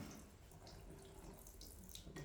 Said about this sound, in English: And the water just falls right off the brick